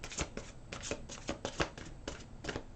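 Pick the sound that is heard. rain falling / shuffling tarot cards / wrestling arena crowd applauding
shuffling tarot cards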